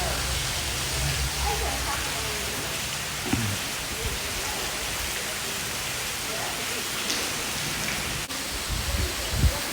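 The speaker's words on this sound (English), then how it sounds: "It's raining." Steady rain pours down outdoors during a fishing session, a dense continuous hiss across the whole stretch with a few faint knocks and a low rumble underneath.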